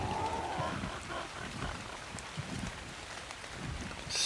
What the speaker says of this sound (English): it's raining, but that's alright.